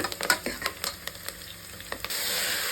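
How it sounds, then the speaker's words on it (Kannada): Sprouted legumes and onion fry in hot oil for a sambar, a steady close sizzle punctuated by quick stirring scrapes and taps, with no one talking. "ಈರುಳ್ಳಿ ಎಣ್ಣೆಲಿ ಚೆನ್ನಾಗಿ ಫ್ರೈ ಆಗ್ತಾ ಇದೆ ಇವಾಗ ಇದಕ್ಕೆ ಮೊಳಕೆ ಕಾಳು ಹಾಕೊಳ್ಳೋಣ"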